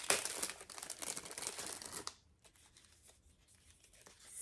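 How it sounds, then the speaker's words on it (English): A plastic bag crinkling as knitting yarn is unpacked, close and busy for about two seconds, then a few faint rustles. "Sorry for the crinkling."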